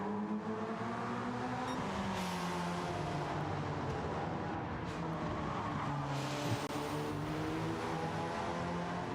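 Race cars on a circuit, a rusty Volvo chased uphill by a Porsche with a Ferrari behind, roaring steadily with overlapping engine tones and a brief tire squeal, loud and continuous throughout.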